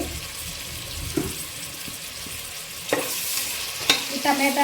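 Onions and tomato fry in a pan for egg biryani, a steady close sizzle broken by a few sharp scrapes and clinks from stirring.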